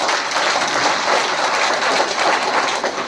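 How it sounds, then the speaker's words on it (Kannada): Applause from an audience at an alcohol de-addiction camp in Indi taluk, Vijayapura district: steady, dense clapping throughout, fairly loud and without speech. "ಅವರಿಗೆ ವಿಶೇಷವಾಗಿ ಒಂದು ಚಪ್ಪಾಳೆ"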